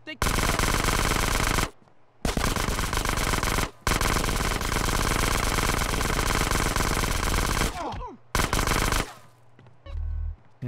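Sustained automatic gunfire in Grand Theft Auto: San Andreas, loud and dense, running in long bursts broken by a few brief pauses, with a short low rumble near the end.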